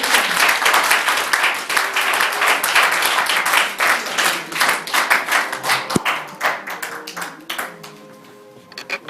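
A church congregation claps loudly and steadily in a dense, sustained round of applause that thins into scattered claps near the end. There is little audible cheering.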